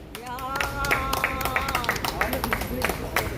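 Crowd clapping at an outdoor protest rally in Korea, a busy, rhythmic patter of many hands mixed with a voice talking over it through loudspeakers and general crowd noise.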